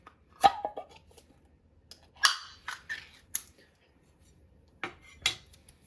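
A can of Great Value macaroni and beef is opened with a few sharp metallic clicks and scrapes spaced over several seconds, close and fairly quiet, with no talking.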